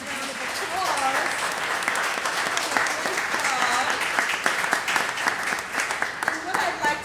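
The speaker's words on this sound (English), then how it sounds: "let's give this panel a round of applause" Audience at a youth conference panel applauding, sustained clapping from a crowd for about seven seconds, loud and continuous, with some speech mixed in.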